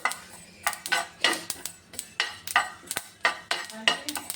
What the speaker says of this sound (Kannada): ಸ್ವಲ್ಪ ಎಳ್ಳನ್ನು ಹಿಂಗೆ ರೋಸ್ಟ್ ಮಾಡ್ಕೋಬೇಕು.